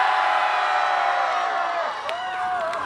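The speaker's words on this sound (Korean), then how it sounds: "앵콜 소리 한번 질러주세요." A festival crowd at a seafood festival in Goseong shouts and cheers loudly for an encore after a band's set, a dense continuous roar with whoops and a sustained tone rising over it.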